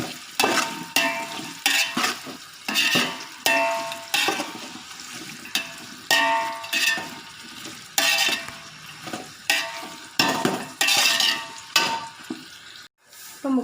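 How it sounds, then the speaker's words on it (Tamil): Onions for beef biryani sauté in a pan, giving a sizzling fry broken by repeated rhythmic scraping and stirring strokes about once a second, moderately close. "வெங்காயம் நல்லா வதங்கணும்."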